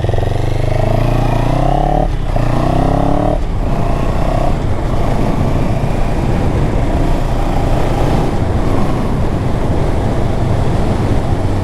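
A 2022 CFMOTO 700CL-X motorcycle engine runs steadily while riding in fifth gear at low speed, a continuous loud drone mixed with heavy wind rush, with no talk over it.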